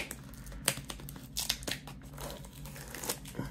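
Tape being peeled off a cardboard phone box, heard as quiet, close crinkling and ripping sounds with sharp tearing bursts in uneven spurts.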